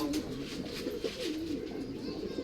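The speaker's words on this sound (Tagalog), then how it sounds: "Daming ibon guys." Pigeons coo steadily and close by in a loft, a continuous low warbling chorus of several birds.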